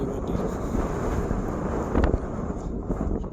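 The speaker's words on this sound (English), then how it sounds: "It's really windy." Strong canyon wind buffets the microphone with a steady low roar and rumble, no voices present.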